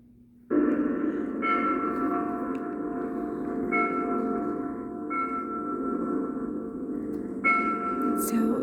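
Bells ring from the 1927 silent film Sunrise, a dense sustained peal that swells in several waves over about eight seconds, loud and reverberant with no voices.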